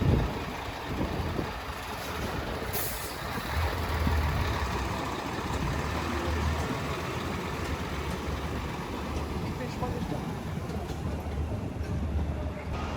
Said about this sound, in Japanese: ちょうどこれはフューチャーレースが終わってパドックに戻されるマシンを運搬している様子